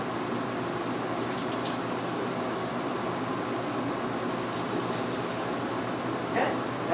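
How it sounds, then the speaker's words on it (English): Water from a pot of boiled eggs is poured off into a kitchen sink, a soft continuous trickling and splashing that runs steadily throughout at low volume. "I'm going to drain out some of my water so that the water is just covering the top of the eggs."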